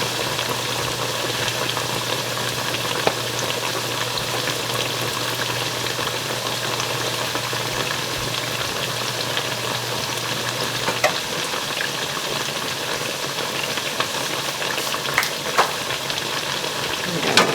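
Fry bread dough frying in a pan for NDN tacos, a steady crackling sizzle throughout with an engine-like hum underneath for the first part and occasional clicks and pops near the end.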